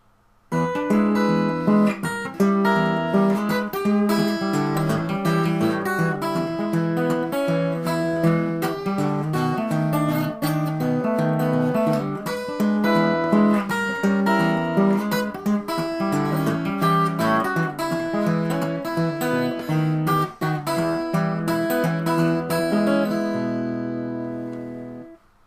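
Acoustic guitar fingerpicked with one finger in a steady blues pattern, plucked notes and a bass line ringing clearly and continuously before fading out at the end.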